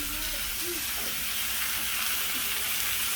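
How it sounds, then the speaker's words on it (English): An NY strip steak sears in a hot pan with a steady, even sizzle and hiss that runs without a break. "We just have to leave it sitting for about 2 minutes to sear on one side before flipping it over"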